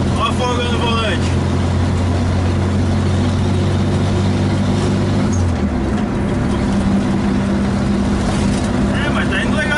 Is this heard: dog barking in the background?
no